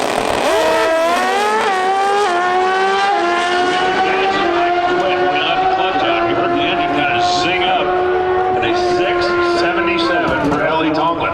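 Two Pro Stock drag-racing motorcycles at the NHRA Route 66 Nationals in Chicago scream down the strip with loud, high-revving engines that rise through gear changes, while a commentator talks over them.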